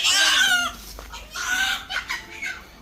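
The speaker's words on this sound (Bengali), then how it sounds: "এই 2টা মুরগি হলো শিনাদের বাড়ি থেকে পাঠানো হয়েছে" Two hens cluck close by in a rural yard, a series of loud, uneven squawking calls with short pauses between them.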